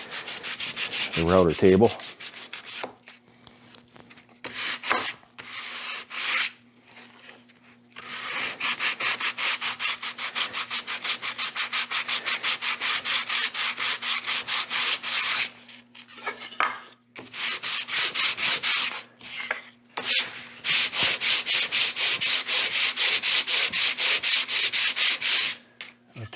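A wooden cremation urn with a routed edge is being sanded by hand. Repeated rhythmic rubbing strokes come in close bursts, with short pauses between runs, and one word is spoken briefly.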